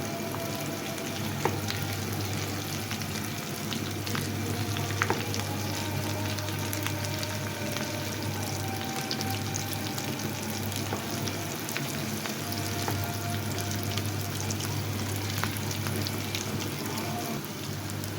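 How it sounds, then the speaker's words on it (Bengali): Barusai pieces fry in a pan over medium heat, a steady, even sizzle crackling continuously throughout with no voices. "চুলার হিটটা কিন্তু আমি মিডিয়ামে রেখে ভেজে নিচ্ছি"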